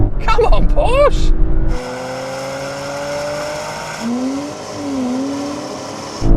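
A Porsche Macan GTS, BMW X3 and Mercedes GLC 43 launch together in a race, with a brief burst of shouting and noise, then a steady rising engine drone that climbs in pitch and shifts as the SUVs accelerate.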